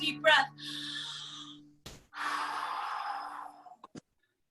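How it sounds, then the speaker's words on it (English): Shabbat candles blown out in two strong, breathy puffs after a quick intake of air, close to the microphone, ending with a couple of short soft clicks and then silence. "We blow them out."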